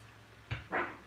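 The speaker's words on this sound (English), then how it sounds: "Chip, stop barking please" A dog gives two quick barks, close but fairly soft, over a quiet indoor background.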